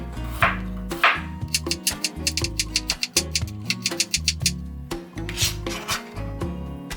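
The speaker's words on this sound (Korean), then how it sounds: "이렇게 해서 가로로 판으로 썰어줍니다" Garlic cloves sliced crosswise with a knife on a cutting board, a quick run of crisp, rhythmic chops and taps in bursts with brief pauses, close and clear, no talking.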